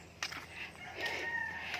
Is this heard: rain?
no